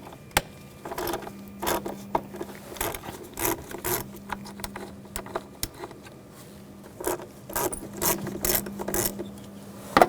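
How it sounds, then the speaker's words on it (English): A tamper-proof Torx T20 bit removes screws from the mass airflow sensor of a Volkswagen Tiguan, making close, quiet ratcheting clicks and scraping metal rasps in short, irregular bursts. "I'm going to take these two screws out."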